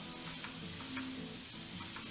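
Sausage meat pulled from its casings and ground beef sizzle steadily in a pan while being broken up, with light scraping and stirring knocks over a constant frying hiss.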